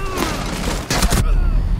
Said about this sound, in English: where were they shooting from?